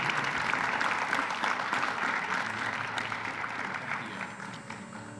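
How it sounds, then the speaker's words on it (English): A large audience applauds at a high school hall of fame induction ceremony, honoring Rialto High School's 1996 CIF champions. Dense, steady clapping fills the hall and tapers off gently near the end. "Round of applause for the CIF champions of 1996"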